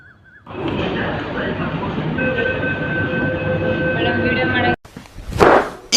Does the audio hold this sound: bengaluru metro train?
yes